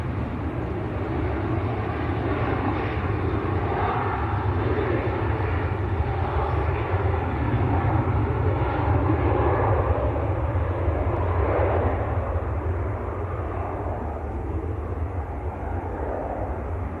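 A Jet2 airliner rolls out after landing at Manchester Airport, a continuous distant engine roar and rumble holding steady for a long stretch before slowly easing.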